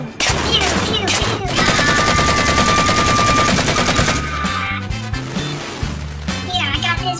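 Rapid automatic weapon fire from Halo 4 rattles in fast bursts, loud and close, with game sounds and a voice speaking over it in places.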